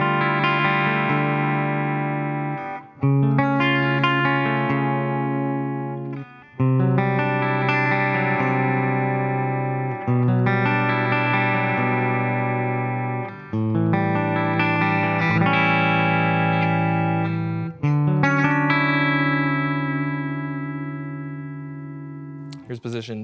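Ernie Ball Music Man Sabre electric guitar on its bridge pickup with a clean tone rings out in a slow series of strummed chords and arpeggios, each one sustaining and decaying, played alone.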